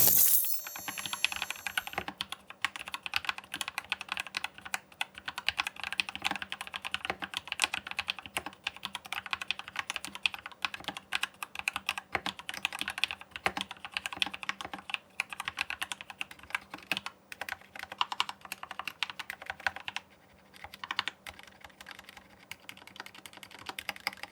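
Steady, fast typing on a Corsair K70 Core mechanical keyboard with pre-lubed switches and two-layer sound-dampening foam, with dense clacking keystrokes continuing throughout with no voices.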